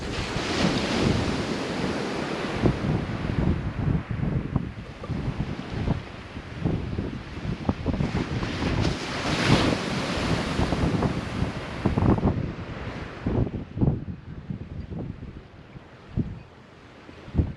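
Gusty wind rushing through seagrass and across the microphone in waves, with a broad continuous whoosh that rises and falls, loud and close, easing toward the end.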